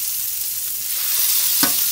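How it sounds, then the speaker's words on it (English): Raw chicken sizzles in a hot pan with a steady, dense hiss throughout, close and even, with a brief louder crackle near the end and no talking. "And let's see, it's nice hot and sizzling now."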